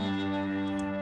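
A single guitar sample, pitch-corrected into chords for a pop track, rings out as a sustained distorted chord with a buzzy, saturated edge and a chorus-like shimmer, alone and unbroken for about a second.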